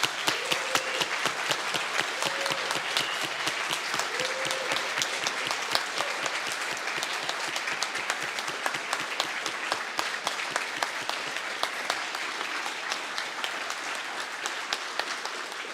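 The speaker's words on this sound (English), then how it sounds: "just an enormous round of applause for everyone at 3DXR" A conference audience gives a long, sustained round of applause, many hands clapping steadily for about sixteen seconds, full and close, with a few brief whistles early on.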